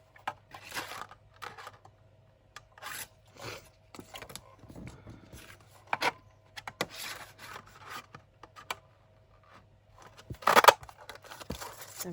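Paper Christmas gift tags being cut with scissors, a series of quiet close snips and rustles in irregular bursts, with one sharper louder cut near the end and no talking.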